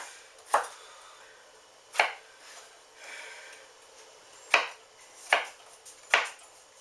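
A knife chops through a huge carrot on a cutting board, cutting it into quarters: five sharp, separate thunks spaced irregularly, close and fairly loud, with quiet gaps between and no talking.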